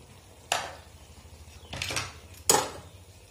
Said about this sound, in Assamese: আৰু অলপ লৰাই দিম এনেকৈ এখিনি ভালদৰে মিক্স কৰি দিম